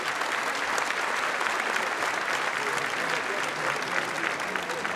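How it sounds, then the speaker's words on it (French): Loud, dense applause from an audience at a French singing competition final, cheering the accompanying musicians; steady clapping fills the whole stretch without letup. "que vous pouvez applaudir très fort"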